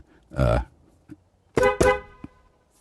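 A few short honks, two loud blasts close together after a brief single one, with quiet gaps between.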